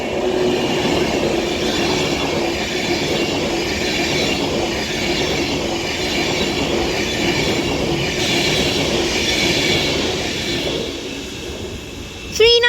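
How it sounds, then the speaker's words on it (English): An Avanti West Coast Class 390 Pendolino, unit 39134, runs through Kidsgrove station on the West Coast Main Line Manchester branch, a loud close roar of wheels and rushing air sustained throughout, ending abruptly. "Now passing through is going to be an Avanti West Coast Class 390 Pendolino"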